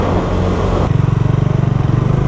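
A Bajaj Dominar 400 motorcycle engine roars loudly up close, then settles into a steady, rapid pulsing thrum at speed, with no voices.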